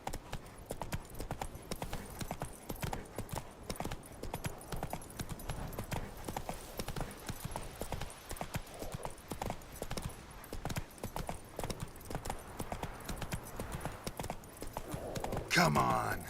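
Roach the horse in The Witcher 3 gallops with fast, rhythmic clip-clopping hooves throughout, fairly quiet and steady, with a rider's voice speaking now and then.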